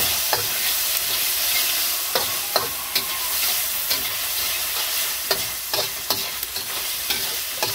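String beans with seasoning and oyster sauce are stirred in a hot pan: a steady sizzle runs throughout, broken by sharp, irregular scrapes and taps of a utensil against the pan.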